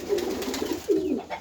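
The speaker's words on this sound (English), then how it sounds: "So those are baby pigeons too." A mother pigeon and her newborn chicks coo softly in the nest, low gentle murmuring in two short phrases close by.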